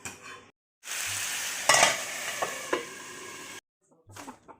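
Bhaji, a vegetable fry, sizzles and crackles in a pan while being stirred, a steady hiss with sharper spatters and scraping stirs, bracketed by brief quiet gaps and faint voices.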